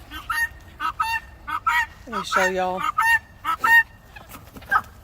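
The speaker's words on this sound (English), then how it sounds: "I am right beside my chicken pen, and my guinea is going crazy." Guinea fowl calling loudly and insistently beside a chicken pen. Harsh, honking cries come in rapid repeated bursts, with a brief spoken remark mixed in.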